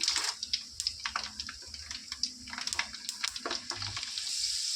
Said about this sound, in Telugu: వెల్లుల్లిపాయలు వేగాయి